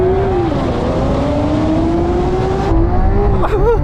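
Lamborghini Aventador accelerating hard in a drag race, a loud steady engine roar with rising pitch held throughout, then a brief change near the end as another car's sound cuts in.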